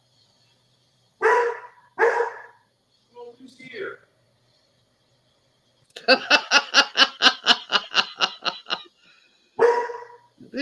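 A dog barks at the door indoors, a few single woofs and then a rapid run of about a dozen sharp barks, close and loud, with a person speaking briefly between them.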